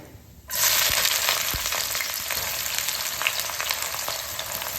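Three chopped onions sizzle loudly in hot oil after whole spices (cinnamon, cumin, cardamom) for a cabbage chicken dish, starting suddenly with a steady bright crackle and occasional stirring taps, close and with no talk.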